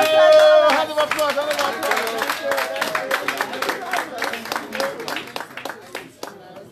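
Applause breaks out at a London town hall meeting and fundraiser, with distinct rhythmic hand claps close by, while a person speaks over the clapping at the start.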